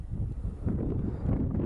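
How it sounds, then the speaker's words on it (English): Steady wind at Yellowstone buffeting the microphone, a low rumbling roar with gusty fluctuations and no other clear sounds. "I wish it wasn't so windy."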